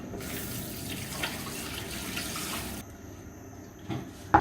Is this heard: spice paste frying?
no